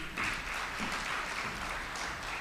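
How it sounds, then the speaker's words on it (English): An audience at an innovation expo in Lilongwe claps steadily, a dense wash of many hands at fairly even loudness from start to end. "A round of applause for them, please."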